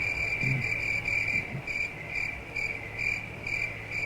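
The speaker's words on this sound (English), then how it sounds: "We'll let the crickets in anyway." Steady, continuous cricket chirping fills the background at moderate level, a sustained high trill with faint pulsing, while quiet low murmurs sit beneath it.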